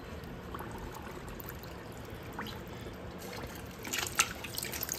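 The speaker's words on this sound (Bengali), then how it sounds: "পাতাগুলিকেও ভালো করে ধুয়ে দিচ্ছি।" Water poured gently over the leaves of a house plant to wash them, a faint soft trickle and splash that swells briefly toward the end.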